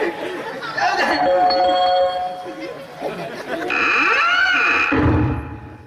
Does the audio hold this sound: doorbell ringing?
yes